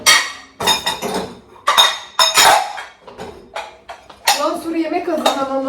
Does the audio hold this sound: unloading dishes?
yes